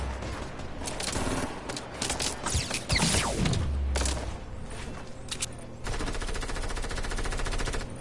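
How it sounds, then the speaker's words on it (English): Video game gunfire from a console shooter, dense bursts of rapid automatic fire and scattered single shots, loud and continuous over about eight seconds with a sweeping whoosh in the middle. "Oh, there's people shooting."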